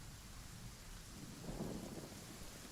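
Thunder from a Genshin Impact story scene: a faint, low rumble that swells briefly near the middle over a steady rain-like hiss, with no one speaking.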